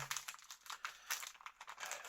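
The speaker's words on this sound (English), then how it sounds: "I want to put it in a plastic bag." A Nokia 6280 phone body shell crinkles into a plastic bag, giving quick, close, faint rustling bursts in an irregular rhythm with no talk.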